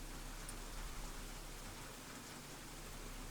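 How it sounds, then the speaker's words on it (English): Faint, steady downpour of rain in a video game, an even hiss of drops on surfaces with no talking. "the rain showed no signs of letting up"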